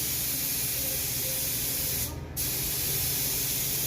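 Spray gun applying coats of paint to a fiberglass cowl hood, a steady close hiss that runs continuously with a brief dip partway through before resuming.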